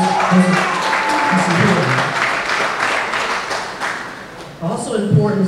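Audience applause at a 25th anniversary presentation rises in bursts of clapping while a speaker keeps talking over it, moderately loud and fairly close.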